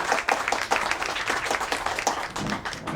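An audience at a World Disability Day event held by a social organisation breaks into brief applause: a few seconds of dense, fairly close clapping with uneven individual claps and no speech over it.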